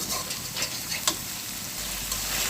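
A spice masala of turmeric, cumin and chili sizzles in oil for a rohu fish and eggplant curry, a constant crackling hiss up close with a few sharp spatter pops and stirring scrapes.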